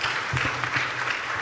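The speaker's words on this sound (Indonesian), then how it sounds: "Tepuk tangan untuk Khairuddin." Brief burst of audience clapping at an Indonesian religious talk, a quick wash of applause from the crowd, with low voices briefly audible beneath it.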